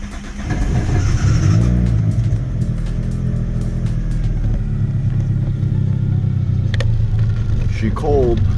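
A 1991 Eagle Talon 1G DSM engine starts on a cool day and settles into a loud, close, rough idle with a steady low drone. Faint wavering surges run through it.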